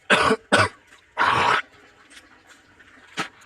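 A person with a cold coughs hard two times, then once more in a longer, heavier burst. After that comes quiet room noise and one last short cough, all close and loud with no talking.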